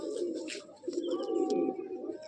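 Close Madrasi pigeons coo in low, rolling bursts in a breeding loft, overlapping one another, with a brief pause midway.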